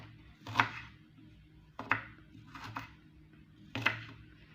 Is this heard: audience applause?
no